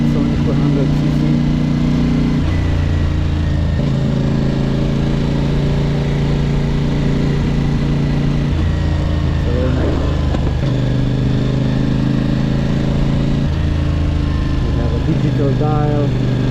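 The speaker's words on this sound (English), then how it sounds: "it has this rumble, so you get a feeling you can go much faster." A CFMOTO 450CL-C motorcycle engine idles with a deep, steady rumble, its pitch shifting slightly now and then, loud and close throughout.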